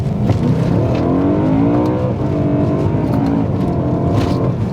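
A BMW E92 M3 V8 engine under way, a loud continuous deep rumble that rises in pitch as it revs up and pulls through the gears, heard close from inside the car with no talk.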